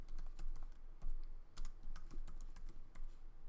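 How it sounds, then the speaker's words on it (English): Keys clatter on a computer keyboard in quick, uneven bursts of close, crisp taps, steady typing with brief pauses and no voice over it. "So I'm gonna type it in there anyway."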